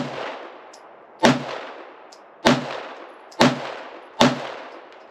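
Shadow Systems MR920 Elite pistol fed from a 15-round Glock magazine, firing four loud, echoing single shots at irregular intervals, each followed by a long reverberating tail.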